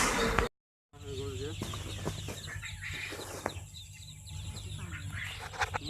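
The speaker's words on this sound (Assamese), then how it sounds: "এইবিলাক হাঁহৰ পোৱালি আহি গৈছে আমাৰ" Ducklings on a duck farm call with busy, overlapping chirps and peeps, with fluttering and a brief gap of silence near the start.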